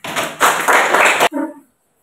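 A school class claps hands together in a short, loud burst lasting about a second, then a brief tapping sound follows before silence.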